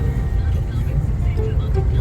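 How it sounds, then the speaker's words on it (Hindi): Road traffic in Delhi: a continuous close rumble of vehicle engines and tyre noise, steady and fairly loud, with a brief tonal horn-like note near the end. "दिल्ली का ट्रैफिक।"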